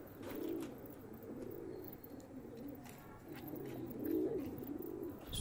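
Pigeons on a rooftop loft in Quetta give soft, low coos that swell twice over a steady hiss of outdoor ambience, faint and moderately close, with no talking.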